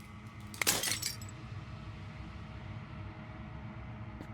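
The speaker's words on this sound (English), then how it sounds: "As the final fragment of glass shatters" Glass shatters in the game Slay the Princess: a short bright burst of breaking fragments near the start, fading quickly over a low steady ambient drone.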